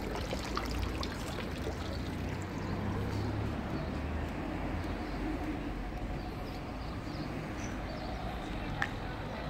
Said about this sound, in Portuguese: isso daqui é uma fonte de água.